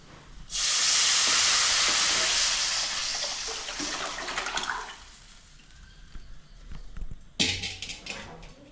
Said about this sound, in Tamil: இப்போ நம்ம வந்து கரைச்சி வச்சுருக்கிற புளி தண்ணி வந்து இப்போ சேர்த்துக்கலாம்